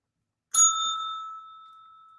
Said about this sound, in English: Forgot the bell for Kessa